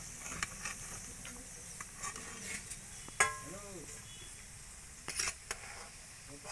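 Chicken cutlets fry in oil with a low, steady sizzling hiss, broken by occasional clinks and scrapes of a utensil in the pan.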